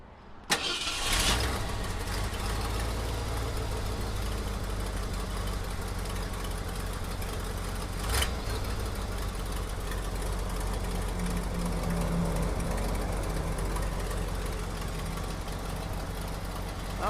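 A restored 1972 Ford dump truck engine fires with a sharp start and settles straight into a steady, rumbling idle close by. A brief rev bump comes partway through, and the idle continues without talk.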